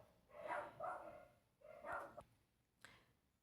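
Neighbourhood dogs barking in the background, a few separate bursts of barks and yips in a quiet setting, moderately distant and faint, with no talk.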